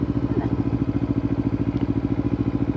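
A motorcycle engine chugs at low revs with a fast, steady pulsing beat while the rider holds the clutch in the friction zone. The sound is close and fairly loud, with no talk.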